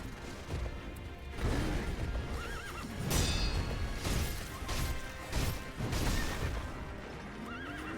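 A horse whinnies several times amid steady clip-clopping hooves and occasional sharp impacts, loud and close with a busy mix from the video game Sekiro: Shadows Die Twice.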